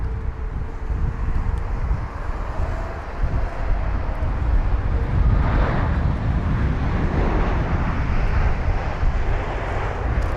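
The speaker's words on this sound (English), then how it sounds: "Here's a LATAM jet." A LATAM jet airliner at London Heathrow gives a steady, broad engine roar that swells slightly midway and holds, heard from a distance over wind noise with no talk.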